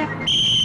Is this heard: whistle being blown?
yes